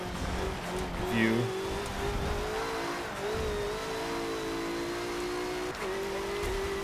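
A BMW M6 GTLM GT race car in the Forza 7 racing game, its engine revving and shifting with a steady whining drone, while a person talks over it.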